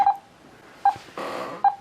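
Morse code tones played with Farnsworth timing: three short, bright beeps spaced by long gaps, with a burst of hiss in between, fairly close and clear.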